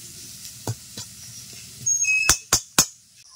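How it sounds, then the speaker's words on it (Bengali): Pumpkin flowers stirred in a hot pan with black cumin seeds, a few soft scrapes followed by three sharp spoon clinks against the pan near the end, with faint sizzling underneath and no talk. "একটু নেড়ে চেড়ে কুমড়ো ফুল দিয়ে দেবো"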